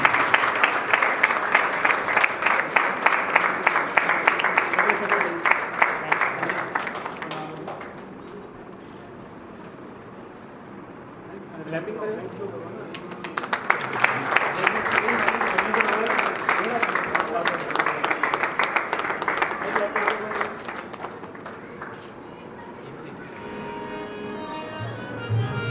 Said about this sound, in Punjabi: ਇਹ ਖੁਸ਼ੀ ਦਾ ਇਜ਼ਹਾਰ ਹੈ ਜਦ ਅਸੀਂ ਇੱਕ ਦੂਸਰੇ ਦੀ ਕਲੈਪ ਕਰਦੇ ਹਾਂ।